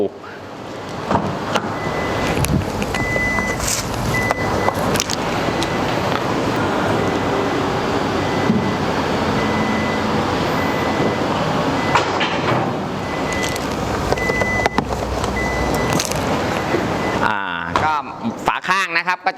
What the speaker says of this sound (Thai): เดี๋ยวผมกดดั้มลงให้ดู